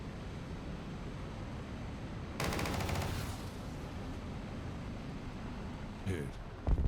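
Missiles fire at a BMP and BTR armored vehicles in a tank combat video game: a rapid rattling launch burst of about a second over steady engine hiss, then a brief second burst near the end.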